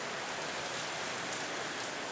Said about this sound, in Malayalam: ഇവിടെ ഒടുക്കത്തെ മഴയാണ്, നല്ല മഴയാണ്